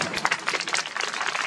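An audience applauds at a public event with film director Tsai Ming-liang at Huashan in Taiwan, a dense, steady patter of many hands clapping at moderate volume through the whole moment.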